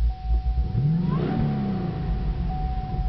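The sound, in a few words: 2013 Chevy Camaro ZL1 engine starting and running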